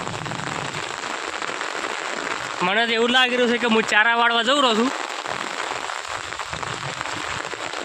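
Heavy monsoon rain pours over farm fields in Banaskantha with a dense, steady hiss, while someone talks over it partway through.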